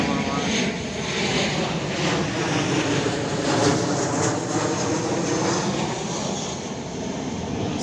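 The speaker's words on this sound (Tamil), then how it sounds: "ஃப்ளைட்டு கூட வருதுங்க." A propeller airplane flies over a cricket ground in Dubai, its loud, steady engine drone sustained throughout and swelling slightly midway, with voices talking underneath.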